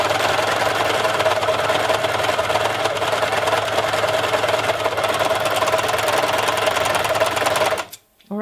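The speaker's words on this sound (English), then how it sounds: "here I will have to sew so that the fabric only ends where the end of the right edge is" A Singer Overlock 14SH654 overlocker trims and sews a fabric edge, a loud, fast, continuous close-up mechanical chatter running steadily for about eight seconds before cutting off abruptly.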